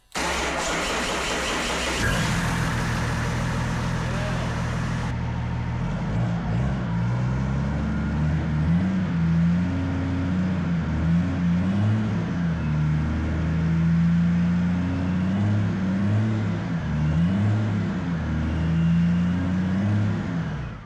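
BMW M57 diesel engine cranking and firing up, then settling into a steady, loud, close idle with a rough clatter and low throb.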